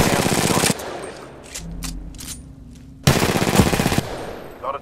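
Weapon fire in the video game Titanfall 2: a rapid automatic burst, a pause with scattered single reports and faint low rumble, then a second loud sustained burst.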